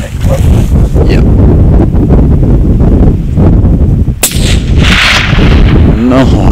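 Loud, close rifle shots while hunting summer stags in New Zealand, with heavy wind buffeting the microphone, one sharp crack ringing out amid steady blustery noise and voices.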